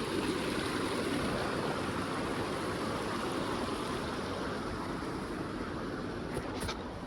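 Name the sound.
creek flowing water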